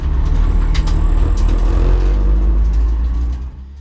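Volkswagen Polo TSI race car with a 1.4 turbo petrol engine and 6-speed DSG, droning loudly and steadily at close range, a deep engine rumble with a few brief higher whines and clicks, no talk.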